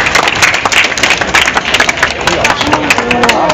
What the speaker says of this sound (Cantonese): 俾啲掌聲啦，或者。